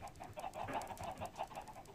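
Minecraft chickens in a chicken XP farm cluck faintly and continuously in a soft, busy pattern with no talk.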